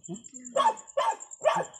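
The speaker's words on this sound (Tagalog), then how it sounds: "Wala yan, aso lang yan. Huwag mong pansin yung aso." A dog barks three times in quick succession, sharp and close, with a high steady whine in the background.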